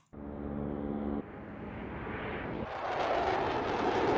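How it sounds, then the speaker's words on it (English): An airplane passes overhead with a loud, broad engine roar that starts abruptly, briefly carries a steady tonal hum, then swells into a brighter rushing whoosh as it nears. "we have plane flying overhead as a search"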